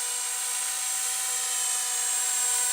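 An Ares Optim 300 CP brushless RC collective pitch helicopter gives off a steady high-pitched whine and buzz that stays constant and fairly loud for the whole stretch, with no voices over it.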